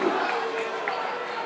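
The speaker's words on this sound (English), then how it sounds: "Crowd doesn't like that one" Basketball crowd in a high school gym murmuring and grumbling steadily after an over-the-back foul call in a boys' sectional playoff game, a dense, fairly distant wash of voices with no clear shouts.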